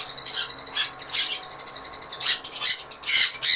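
Pet cockatiels and lovebirds squawk and chirp in loud, overlapping bursts, a busy cluster of shrill calls running throughout with no talking.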